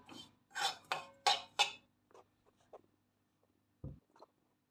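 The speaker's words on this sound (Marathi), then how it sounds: "हे कोकोनट जे आहे डेसिकेटेड कोकोनट हे छान मी आधी गुलाबी रंगावर भाजून घेते" Desiccated coconut being roasted in a pan, with several scraping strokes of a spatula in quick succession, then sparse quieter taps and one dull knock.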